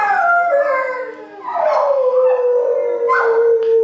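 A dog howls in long, wavering, rising and falling cries close by, with a few short yips mixed in and no talking.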